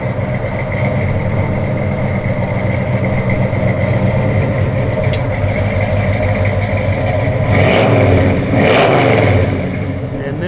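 A 1970 Chevrolet Chevelle SS engine idles with a steady low rumble, then revs up twice near the end in loud swelling bursts, with a faint voice over it.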